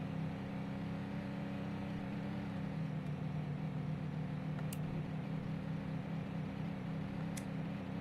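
A car in the game Denizen drives steadily, its engine a constant low drone with faint road noise and a couple of small clicks, with no talking.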